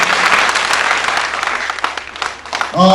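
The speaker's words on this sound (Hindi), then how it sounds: "एक जोरदार ताली पहले इन कलाकारों के लिए हो जाए।" Audience applause for stage performers at a Hindi play, dense sustained clapping from a crowd filling the space, close and loud, with a voice starting up just at the end.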